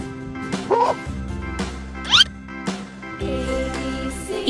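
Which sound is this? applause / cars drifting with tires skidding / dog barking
dog barking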